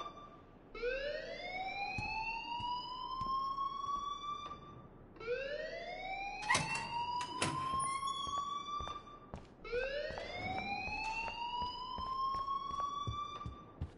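A rising, wailing electronic alarm in the game Life is Strange cycles three times, each sweep climbing and holding before restarting, loud and continuous with a few sharp knocks near the middle.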